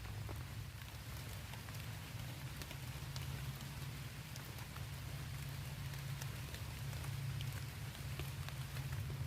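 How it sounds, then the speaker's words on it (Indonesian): Light drizzle falling outdoors at a camping spot, a steady soft hiss of rain with scattered faint drops, continuous and fairly quiet throughout. "gerimis."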